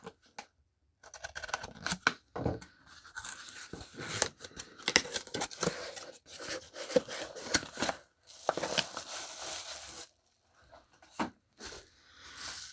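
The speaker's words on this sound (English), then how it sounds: "Trying to open this box up without revealing the label on the other side" Cardboard shipping box for a watch being opened with a knife: a busy run of scraping, tearing and cutting noises in short bursts, with a few pauses of quiet in between.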